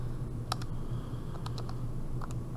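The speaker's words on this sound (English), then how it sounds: "I'm just going to type that into my calculator off to the side here" Quick plastic key taps on a calculator as numbers are entered, a few scattered clicks in small bursts over a steady low hum, close and fairly quiet.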